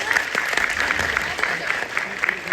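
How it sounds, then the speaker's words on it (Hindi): A short burst of steady applause from a crowd, dense clapping throughout with no pause. "जोरदार तालियों से शुरुआत करेंगे।"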